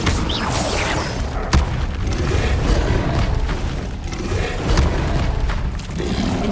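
An Incendio fire spell cast in Hogwarts Legacy, a sustained roaring whoosh of flame with a sharp crack near the start and low booming thumps throughout.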